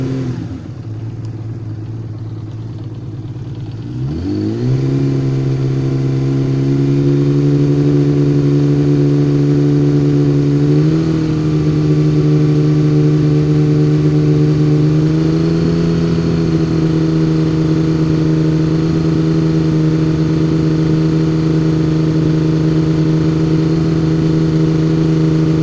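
Honda CBX motorcycle engine idling and then revving up to a steady fast run around 3000 RPM, a loud close-up continuous drone that climbs in two small steps and holds, with no talk.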